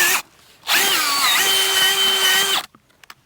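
A power drill whirs loudly at close range for about two seconds, its pitch dipping slightly under load before it stops abruptly.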